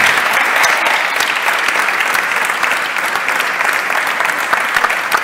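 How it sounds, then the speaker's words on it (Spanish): An audience at a health lecture applauds the speakers, a loud, sustained, dense round of clapping with a faint murmur of the crowd underneath. "Un aplauso para nuestros ponentes."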